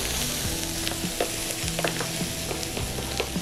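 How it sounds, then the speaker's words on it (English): Vegetables with parsley and green onion sizzle and fry in a pan while being stirred, a continuous crackling hiss broken by repeated scraping and clinking strokes of the utensil, close and fairly loud with no voices. "Stirring your veggies so they don't stick to the bottom of the pan."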